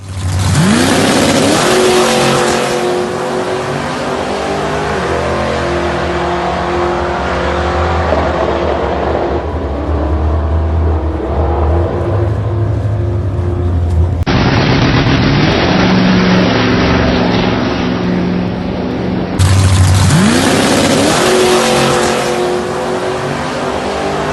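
A supercharged 363 small-block Ford car launching hard: a loud, raw engine roar that climbs through the revs, cuts back at shifts and rises again, with supercharger whine, sustained and close throughout.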